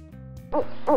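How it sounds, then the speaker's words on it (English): An owl hoots twice in a clear, close call, each hoot a short, mellow, wavering note. The calls stand alone with no talking. "Owl."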